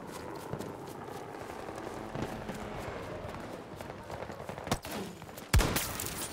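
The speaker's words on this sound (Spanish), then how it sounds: "Hay disparos, ¿eh?" Gunfire in the video game Battlefield 2042, with distant rattling bursts and shots over a dense, continuous battlefield rumble, then a sharper, louder crack near the end.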